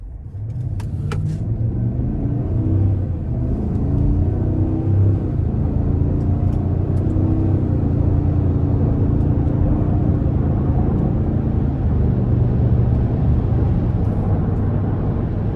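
A 2025 Cadillac Escalade ESV's 6.2-liter V8 pulls steadily from a stop, its deep engine drone climbing in pitch through gear changes, heard from inside the cabin with no talking.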